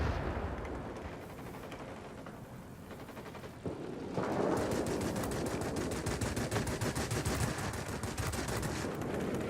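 Rapid, continuous bursts of 23 millimeter cannon fire from a Yak 15 jet in World of Warplanes, a dense rattling stream over steady engine roar that grows louder midway.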